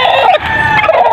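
A gold native hen, a broody bird sitting on eggs, gives a loud close burst of clucking and crowing-like calls, alone with no voices.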